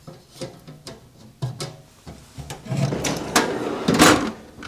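A drawer of a VEVOR tool storage cabinet, loaded with heavy large wrenches, slides with a series of knocks and rolling rumbles, ending in a louder close, heard up close in a small shop.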